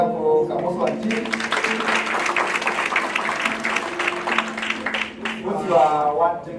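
Applause for Kamoso and team at a live photofilm-for-change event, a few seconds of steady clapping mixed with talking voices throughout.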